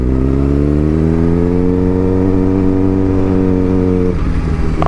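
A Suzuki GSX-R 600 motorcycle with a changed sprocket idles and revs loudly up close, engine pitch climbing steadily then dropping off near the end.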